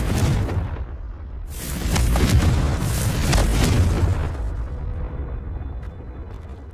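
Confringo spell explosions in the Hogwarts Legacy video game: loud, rumbling blasts with two strong bursts in the middle, leaving a lingering low roar with no talking.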